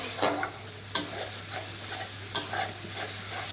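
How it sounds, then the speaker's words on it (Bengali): A mustard and poppy seed paste is stirred in a frying pan with turmeric, giving a soft continuous sizzle broken by a few sharp scraping strokes of the spoon, heard up close. "এই যে পেস্টটা বানিয়ে রেখেছিলাম সেই পেস্টটা দিয়ে সুন্দর করে নাড়াচাড়া করব"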